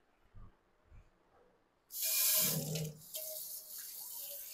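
A kitchen tap in a holiday apartment is switched on after quiet clicks and runs into a sink, splashing loudly at first then settling into a steady stream while something is rinsed.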